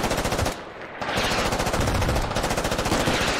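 Rapid automatic gunfire crackles in the Squad video game, two loud bursts of close, dense shots with a brief gap between them.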